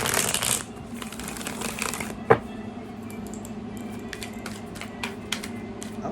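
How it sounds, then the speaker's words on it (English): Tarot cards being shuffled by hand, soft continuous riffling and sliding with occasional louder snaps, close and fairly quiet. "I haven't even finished shuffling or cut."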